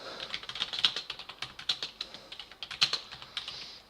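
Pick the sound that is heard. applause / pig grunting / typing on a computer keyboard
typing on a computer keyboard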